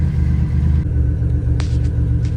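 A freshened stroker engine in a 1987 Buick Grand National idles hot with a steady, deep low rumble, close and even throughout, with no talking.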